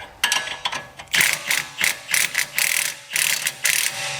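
Ratchet wrench loosening a bolt on a BMW E92 M3's suspension during an Öhlins TTX coilover install, a close, loud series of rapid clicking bursts in a stop-start rhythm.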